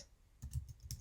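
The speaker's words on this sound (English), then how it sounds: "I'm going to type best practices" A few quiet keystrokes on a computer keyboard, typing a short search phrase into a help portal, heard close and alone in a brief burst.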